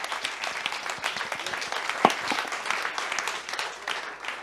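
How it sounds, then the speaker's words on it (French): Audience applause in a conference hall for three presenters at a workplace quality-of-life symposium for business leaders in Avignon, a steady wash of clapping held for several seconds with one sharper clap standing out near the middle. "Vous pouvez les applaudir tous les trois"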